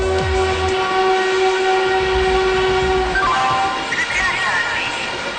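A Mumbai local commuter train rumbles past close by, with a long horn blast over the clatter of the cars.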